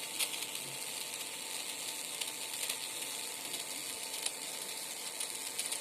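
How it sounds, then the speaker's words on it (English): A small DC motor runs at 60 rpm on a speed and direction controller, giving a steady, fine mechanical whir and hiss that continues evenly close by, with no talking. "And the motor is rotating in 60 rpm."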